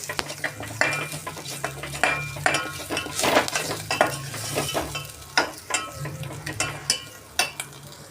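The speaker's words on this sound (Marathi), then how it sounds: "थोडा वेळ असंच परतवून घेऊया" Coriander sautéing in hot oil for Kolhapuri chicken rassa, a soft sizzle beneath repeated sharp scrapes and clinks of a metal spoon against the pan, stirring in an uneven rhythm close by.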